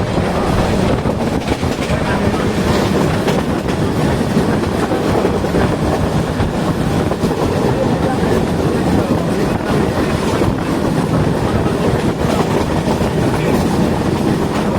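Steady, loud rumble and rattling clatter of a Bangladesh Railway train running at speed near Hatubhanga station, heard from inside the carriage, continuous throughout with faint wheel noise and no clear talk.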